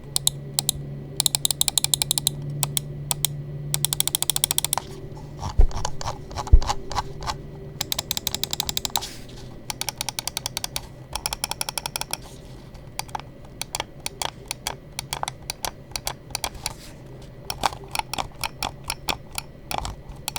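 An Attack Shark X3 Pro gaming mouse gives rapid bursts of close, crisp button clicks, some in fast clusters and others spaced singly, with no talking.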